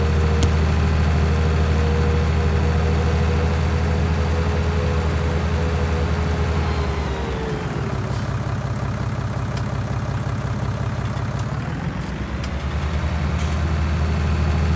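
A farm tractor with a trolley attached runs with a steady low diesel rumble, engine note dipping and easing for a few seconds midway before returning to its constant chug, close and loud without talk.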